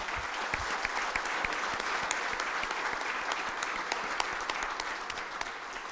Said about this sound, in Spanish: le brindamos un fuerte aplauso a los jóvenes.